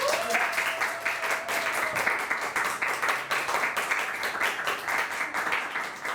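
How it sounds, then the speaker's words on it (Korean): An audience claps steadily and continuously for several seconds in a lively round of applause, with a short tone sounding early on and some background voices. "박수 쳐주세요."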